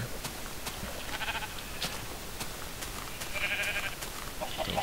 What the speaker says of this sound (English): Little sheep.